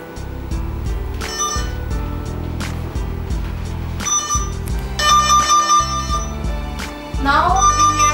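An NF-868 cable length tester's tracing tone, picked up by its amplifier probe near a switch, sounds as a loud, close electronic warble of repeating beeps that ends in a brief chirping flourish.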